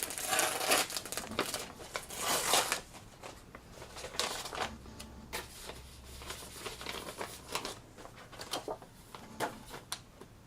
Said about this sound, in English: I hear like a bunch of rustling, like someone's moving papers or something.